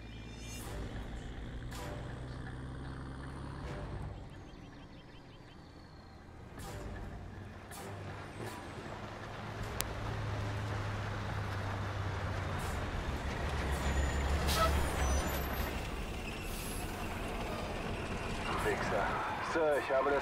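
An enemy convoy of six vehicles approaches in Call of Duty Modern Warfare Remastered: a low engine rumble that swells louder over time, with hissing air brakes and clanks, under radio-style voices.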